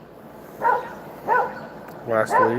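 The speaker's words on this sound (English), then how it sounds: "I'm sorry about my dog barking, but he's barking at the old kitty cat crossing the road." A dog barking at a cat crossing a road, four sharp barks in two spaced pairs, fairly close, with someone speaking briefly alongside.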